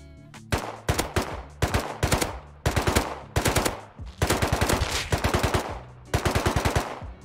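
Rapid automatic gunfire from the survival game Rust rattles out in a string of loud, closely spaced bursts, each a quick volley of shots separated by brief pauses, with no talking.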